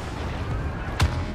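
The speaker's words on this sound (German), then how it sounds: "Alter, die sind ziemlich heftig, die Explosionen." An explosion in the Star Wars Battlefront beta, a single sharp blast with a deep thump cutting through a low rumbling backdrop of battle noise, fairly faint overall.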